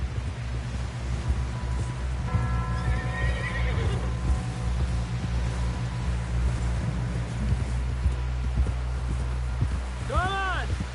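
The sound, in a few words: horse neighing in a video game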